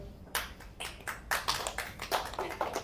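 Sparse applause from a few smokers in a theatre audience at a comedy show breaks out as scattered claps, irregular and fairly soft, with no talking over them.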